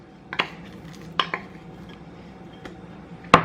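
Wooden spoon clacking and scraping against a bowl while stirring almond flour for coffee chocolate macarons, a few sharp knocks spaced irregularly, the last one loudest, over a quiet, low hum in the background.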